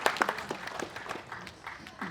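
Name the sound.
applause welcoming guests at memorial ceremony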